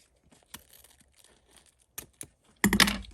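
Scissors cutting wired ribbon from a spool: faint scattered rustles and clicks, then a brief, louder crisp snip-and-crinkle burst near the end, in a quiet room with no talking.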